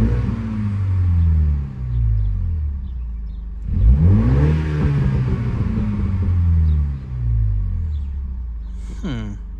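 A JCW Mini Clubman with a Dinan intake muffler delete idles, then free-revs without load, climbing in a couple of smooth swells and settling back, loud and close with little turbo noise.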